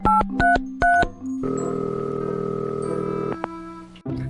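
Someone dials a telephone: three short two-tone keypad beeps, then a long steady dial tone that cuts off, heard close and clean with no speech.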